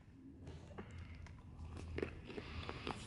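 Crunchy candy being chewed up close, with several quiet crisp bites and crunches over a few seconds in a quiet room.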